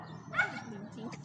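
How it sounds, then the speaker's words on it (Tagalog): Dogs at a house in the Philippines, heard as a brief yip or bark-like burst partway through, under ongoing conversation and background noise. "Daming aso dito mga kapiks."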